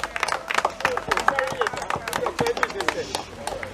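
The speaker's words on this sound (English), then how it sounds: "Give him a big round of applause, ladies and gentlemen." An outdoor crowd claps for divers at an award ceremony honoring them as peace ambassadors, a loose burst of sharp, uneven claps with people talking and cheering around them.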